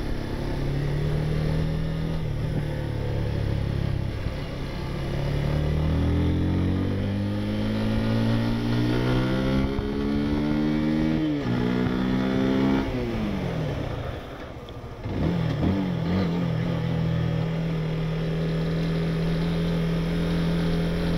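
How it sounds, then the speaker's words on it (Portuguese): A 160cc motorcycle rides a straight during a braking test, engine revving up through several gears with rising pitch, then dropping sharply as it slows and settles into a steady idle, heard close and alone. "Nessa primeira passada na reta eu vou fazer um teste de frenagem"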